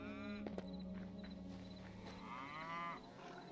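Cows mooing in the video game Hytale, a few drawn-out low moos with livestock shuffling, fairly faint, with a brief voice alongside.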